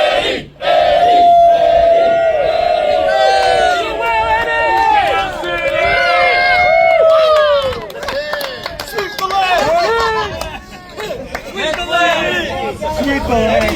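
A crowd at Fallbrook Skatepark chants and cheers for BMX rider Eddie Fiola after his hard crash, a loud, dense mass of close voices that shouts in repeated bursts across the whole stretch.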